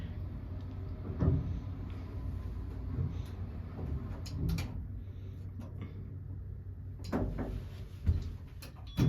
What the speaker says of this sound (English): Door sounds like Gen 2.